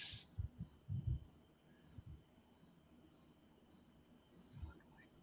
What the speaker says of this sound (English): I hear crickets too.